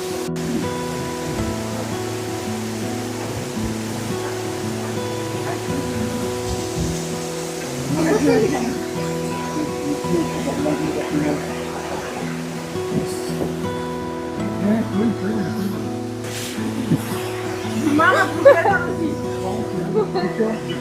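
A waterfall pouring through ice on a hiking trail in Bulgaria, a continuous broad rushing roar throughout, with people talking intermittently over it.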